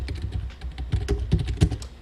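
Rapid, uneven keystrokes clatter on a computer keyboard, close and fairly loud, with clustered heavier taps and no voices.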